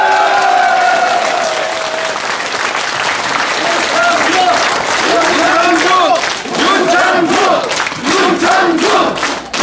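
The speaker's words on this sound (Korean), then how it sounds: "박수 한번 주십시오" Loud crowd at a political rally in Daejeon applauding and cheering, with shouts and chanting voices rising over sustained clapping throughout.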